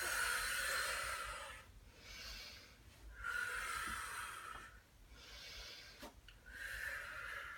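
Slow, audible exhales repeated during a postnatal pelvic floor and core exercise, each a soft breathy hiss of a few seconds separated by short pauses, close and fairly quiet, without talk.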